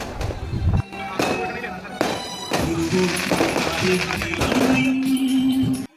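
Fireworks at a church feast procession at Nazareth church crack and pop in sharp bursts over a crowded outdoor din, fairly near and repeated through the scene.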